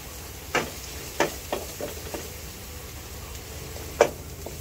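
Garlic frying in hot oil for a Filipino mung bean (munggo) dish: a steady, soft sizzle with a few sharp clinks and scrapes of a utensil against the pan, spaced unevenly.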